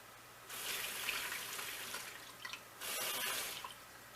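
Raw shrimp being rinsed in a kitchen sink under running tap water, a steady hissing stream that breaks off briefly and starts again, close and fairly loud with no speech.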